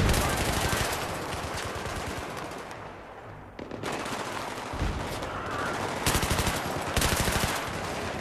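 Heavy automatic gunfire from a large gun in Battlefield 3, loud rapid bursts with a brief pause midway, then more sustained firing alongside other shots as voices speak over it.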